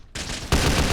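Rapid bursts of gunfire in GTA San Andreas, loud and dense, jumping sharply louder halfway through into sustained heavy shooting.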